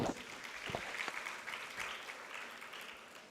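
Audience applause at an International Women's Day celebration event, a steady wash of many hands clapping for a few seconds, moderately distant and fairly faint, with no talk over it.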